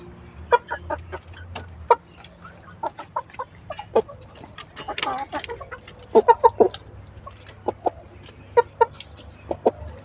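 Several backyard chickens cluck in repeated short bursts, fairly close, with a low steady hum underneath during very hot weather; no talking is heard.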